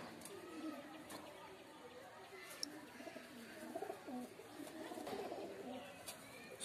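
Soft pigeon cooing murmurs at low volume through a quiet, steady background, with faint chatter and occasional light clicks.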